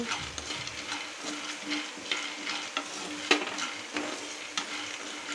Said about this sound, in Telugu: ఇది బాగా మాడిపోకుండా వేయించుకోవాలా